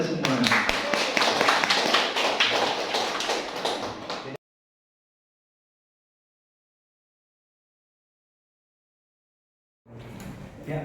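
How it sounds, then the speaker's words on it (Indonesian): An audience clapping together in a dense, brisk burst at a school gathering, which stops abruptly into silence before faint room sound returns. "Tepuk tangan untuk kita semua."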